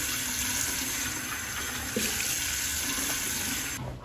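Warm water runs from a tap into a sink before a razor shave, a steady broad hiss lasting several seconds that cuts off near the end.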